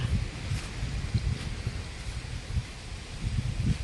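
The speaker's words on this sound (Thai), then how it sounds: "ลมแรงมากทุกคน" Strong wind gusting at a mountain campsite in a Thai national park, a continuous low buffeting roar with rustling and microphone wind noise, swelling in repeated gusts with no talk.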